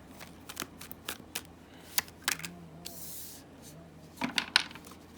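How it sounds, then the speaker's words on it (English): Tarot cards shuffled by hand at close range, with bursts of quick riffling and crisp flicks separated by short pauses, plus a soft hiss in the middle. "So I'm gonna shuffle and we're gonna get into it."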